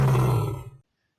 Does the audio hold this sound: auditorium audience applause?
no